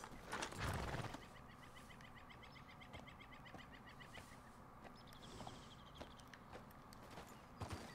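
In Red Dead Redemption 2, a horse lets out a loud snort or whinny up close, then hooves plod softly with a faint clip-clop as birds chirp in the background.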